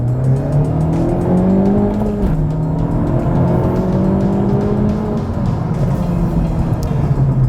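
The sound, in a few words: 2019 Honda Civic Type R accelerating with front wheel spin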